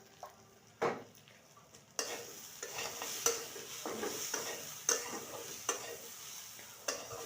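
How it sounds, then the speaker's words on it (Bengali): Spices of turmeric, chili powder and salt frying in oil in a pan, a steady sizzle punctuated by sharp scrapes and taps of a stirring spoon against the pan at irregular intervals, close and clear. "এই দেখো প্রায় ভাজা হয়ে গেছে, আর একটু ভাজবো"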